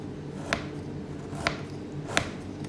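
Three sharp knife chops on a cutting board in a home kitchen, spaced about a second apart and clearly heard over steady background hum, with no talk.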